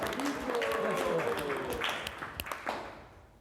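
An audience breaks into clapping at a devotional talk in Vrindavan, moderate applause that carries under a voice in the room before thinning and fading toward the end.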